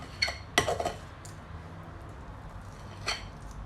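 A scoop of keto chocolate cookie dough clanks against a metal baking tray, several light metallic clicks and knocks spaced apart over a quiet background.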